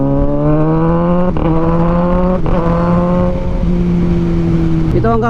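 A Kawasaki Ninja 1000 motorcycle accelerates on a road near Balagtas and Plaridel, its engine note rising steadily through several gear changes, loud and close throughout.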